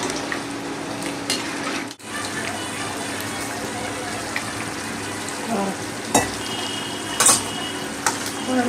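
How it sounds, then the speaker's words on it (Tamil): Steady bubbling and simmering of a fish curry in a pot on the stove, a constant low hiss with occasional small pops and clinks, close by. "நல்லா கொதிக்குது"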